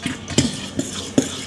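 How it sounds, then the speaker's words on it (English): A fork mixes dry cornbread ingredients in a bowl, giving soft scraping strokes with a few sharper clinks against the side, spaced irregularly, close and fairly quiet. "We're going to mix it up with a fork."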